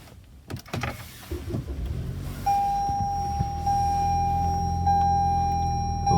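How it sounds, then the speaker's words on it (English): A car being switched on, a low motor hum rising with a steady high electronic tone that holds on, close and fairly quiet, with no talk. "I'm going to turn the car on."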